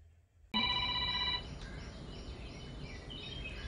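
An incoming call makes a phone ring with a single bright electronic tone lasting about a second, followed by a faint lingering tail over quiet room noise.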